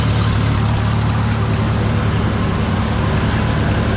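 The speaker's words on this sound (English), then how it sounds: "Nice clean looking little engine. Runs good." A Cub Low Boy 154 tractor's small engine runs steadily nearby, a loud continuous low rumble with an even idle and no pauses.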